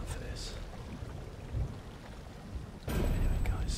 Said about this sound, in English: Here we are. And it's flipping raining.